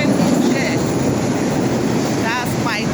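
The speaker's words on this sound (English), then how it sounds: "And my train is here." A train rolls into a station with a loud, steady rumble of wheels and cars close by, and squealing brakes rise briefly toward the end.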